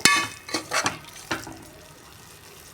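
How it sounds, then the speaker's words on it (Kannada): Rice for mint pulao is stir-fried in a pan, with a few quick scraping stirs and bursts of sizzle close by that fade into a quiet hiss. No one speaks. "ಅಕ್ಕಿ ಚೆನ್ನಾಗಿ ಫ್ರೈ ಮಾಡ್ಕೊಳ್ಳೋಣ"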